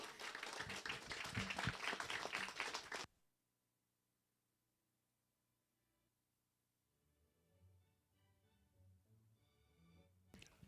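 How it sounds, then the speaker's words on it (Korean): Audience applause at a Cheon Il Guk blessing ceremony for the third king, a loud burst of crowd clapping for about three seconds that cuts off abruptly, followed by near silence and then faint music. "큰 박수로 환영하시기 바랍니다"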